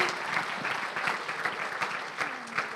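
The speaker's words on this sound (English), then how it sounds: "Can we clap?" Gala guests at a Make-A-Wish charity evening clap and cheer for Weston, a boy nearing the end of chemotherapy. The applause is dense and continuous, with a few voices and whoops rising out of the crowd.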